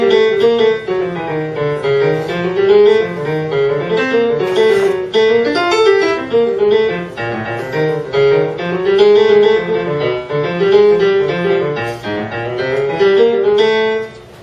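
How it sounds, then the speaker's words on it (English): A low-register piano improvisation, a continuous, busy melodic line moving through the bass and baritone range with no pauses, played alone. "So if you hear a low improvisation, it's going to sound like this."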